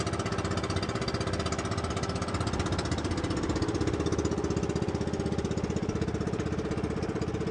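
A small fishing boat's engine runs steadily close by, a loud rapid knocking putter with an even rhythm throughout and no voices over it.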